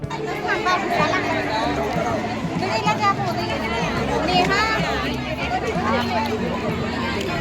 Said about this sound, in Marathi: पहा कशी गर्दी आहे